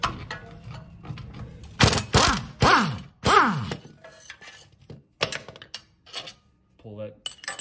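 An impact wrench on a John Deere LA145 riding mower removes the single PTO clutch bolt from the engine crankshaft, with a few loud, close bursts of rattling hammering separated by pauses and lighter metallic clanks.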